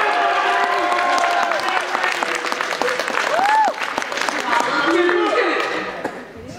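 Audience at a Poetry Out Loud recitation contest breaking into sustained applause, thick close clapping with a few whoops and cheers rising over it before it thins out at the end.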